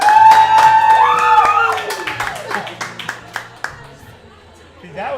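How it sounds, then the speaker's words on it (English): Clapping and cheering for the Baldwinsville girls bowling state champion team, loud at first with talk and ringing tones mixed in, then thinning to scattered claps that fade over about five seconds. "can we give these wonderful ladies a round of applause"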